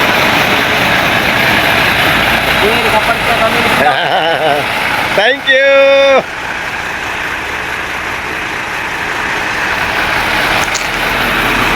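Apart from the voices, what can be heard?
trucks arriving at a landfill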